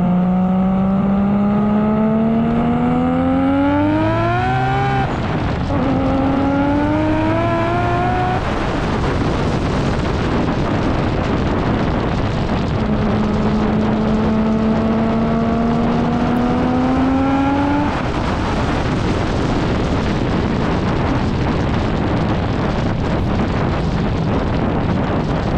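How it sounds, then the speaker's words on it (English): A boosted Toyota Mark IV Supra engine roars in two loud rising pulls, drops off between them, then builds again in a third long climb, with wind buffeting throughout. "So now here we got a Mark IV Supra. It looks like it's a driving clip."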